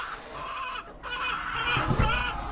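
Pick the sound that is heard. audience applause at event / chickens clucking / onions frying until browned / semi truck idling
chickens clucking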